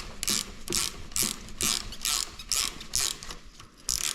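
A ratchet wrench clicks rhythmically while loosening the rear shock absorber lock nut on a 2011 Ford Fiesta sedan, about eight close, crisp bursts of ratcheting at a steady pace with no talk.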